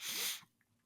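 One loud, close sneeze with a sharp burst of breath, then quiet.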